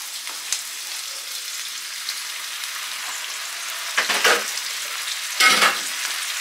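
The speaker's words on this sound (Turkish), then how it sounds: "Zaten etler ve soğan mühürlendi." Meat and onions sear in a pot with a steady, close sizzle throughout, broken by two short louder hissing flares near the end.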